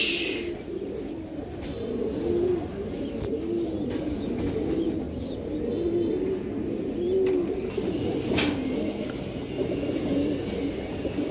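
A pair of Giribaz racing pigeons coos repeatedly in soft, rounded pulses against a constant low background noise, with a few sharp clicks near the end.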